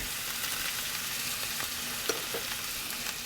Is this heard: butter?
yes